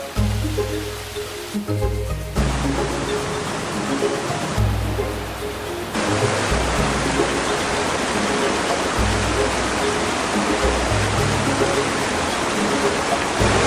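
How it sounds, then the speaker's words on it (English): Spring water pours and splashes down rocks in a nature reserve, a loud, steady broadband rush that continues without pause, close by. "More spring water coming down here"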